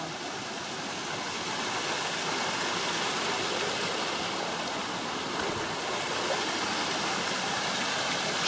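Neverfail Creek flows in a steady, broadband rush of running water, constant and fairly close throughout with no talking.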